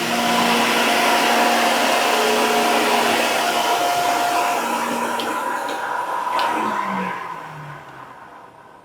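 A Factory Cat MicroMini 17D walk-behind floor scrubber runs with a loud steady motor whine and rushing airflow, holding tones that shift in pitch before the machine winds down and fades near the end.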